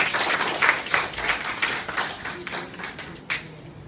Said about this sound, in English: Clap them, please.